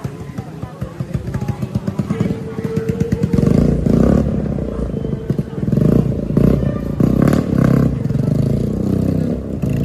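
Motorcycle engine passing on Chonky Road near the Chonky Red Heritage Hotel and a church in Melaka city, loud and close, rumbling and revving with clatter amid street noise for most of the clip.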